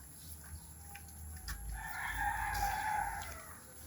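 Geese on a small farm that also keeps potbellied pigs, giving a drawn-out honking call that swells in the second half, fairly close, over a faint background hum with no one speaking.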